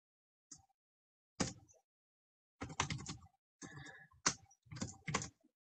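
Quiet bursts of typing on a computer keyboard: short clusters of keystrokes separated by pauses, close and fairly soft, with no talking.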